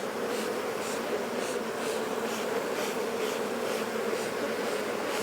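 Honey bees swarming over a hive super, a continuous soft even buzz with no pauses, fairly quiet and unaccompanied by any voices.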